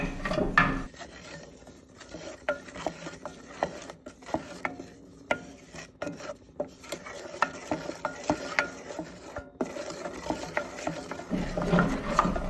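Chocolate cake mixture with sugar and liqueur being stirred in a bowl, a steady run of soft scraping and rubbing strokes with small clicks, close and fairly quiet, with no talking.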